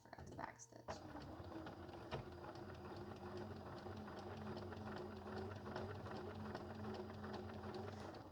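A sewing machine runs steadily as it stitches binding onto a quilt, producing a continuous mechanical whir with a rapid needle rhythm that holds close and even for several seconds after a brief pause at the start.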